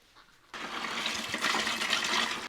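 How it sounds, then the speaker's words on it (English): Vinegar is poured into a bucket for cleaning a tankless water heater, a steady, splashy rush of liquid that starts abruptly after a quiet moment and continues strongly for about two seconds, close by. "next step is to pour all the vinegar into the bucket."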